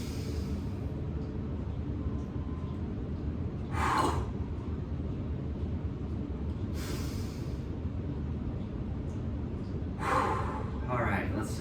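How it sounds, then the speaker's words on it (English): An instructor-led breathing exercise during a fitness session: a few audible breaths drawn in through the nose and let out again, spaced several seconds apart over steady low background noise. "breathe in through your nose. Hold and exhale."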